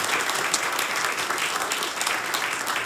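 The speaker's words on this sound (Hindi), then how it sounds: "तुम ताली बजा रहे थे" Steady, loud audience applause fills a stand-up comedy show in a hall, dense clapping continuing evenly throughout with no speech over it.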